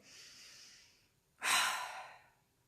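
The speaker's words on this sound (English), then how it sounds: "take a deep breath." One person takes a deep breath close to the mic, a soft drawn-in inhale, a brief pause, then a longer, louder exhale like a sigh.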